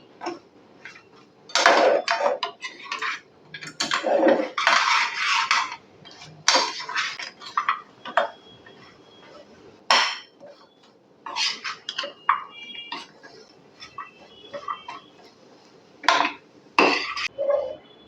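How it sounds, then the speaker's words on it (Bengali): A spoon scrapes and clinks against a pan while khurma, a small sweet fried snack, is stirred continuously, coming in irregular bursts of metallic clatter with brief pauses between them. "খুরমাগুলোকে দিয়েও কিন্তু অনবরতই আমাকে নাড়তে হবে নাড়াটা কিন্তু বন্ধ করা যাবে না"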